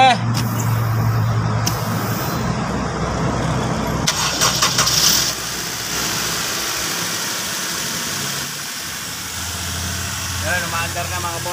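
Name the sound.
Honda CR-V 2nd generation engine starting and idling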